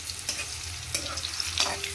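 Sliced pointed gourd (potol) sizzles and crackles in hot oil in a frying pan, a steady fry punctuated by a few scraping stirs, no voices.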